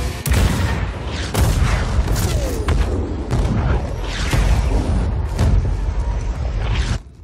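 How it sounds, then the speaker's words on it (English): Artillery towers fire in a video game: loud, dense booms and rumbling blasts roll continuously in a layered barrage of explosions before cutting off abruptly near the end. "Engage all artillery towers."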